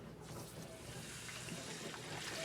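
Swordfish with water added to very hot bacon grease in a pan gives a steady, faint broadband sizzling hiss that runs unbroken throughout.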